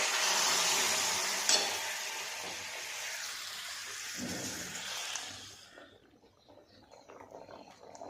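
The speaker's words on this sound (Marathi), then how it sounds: "फोडणी मी घालते आपला दाळ तडका" Hot oil sizzles loudly as spices are tempered in it for dal tadka, the hiss gradually dying down to a quieter crackle.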